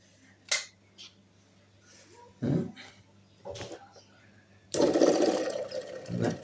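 A home water filter's water control switch gives a few sharp, separate clicks spaced a second or so apart, close up, followed by a sudden rush of flowing water that continues steadily.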